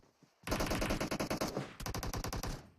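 Automatic gunfire in the PUBG Mobile battle royale game sounds as two close, loud bursts of rapid shots, the second after a brief pause, with no voices over them.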